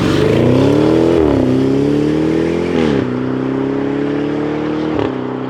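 A Jaguar F-Pace SVR's V8 engine drones loudly and continuously while driving on the road, with the pitch rising through gears and briefly dipping at each shift, heard close and alone without talk.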